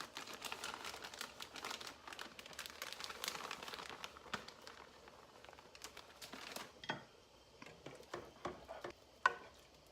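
Cheese being stirred into keto broccoli soup in a pot, a close, busy run of soft crinkling, scraping and patter, dense at first and then thinning into separate clinks and knocks toward the end, with no talk.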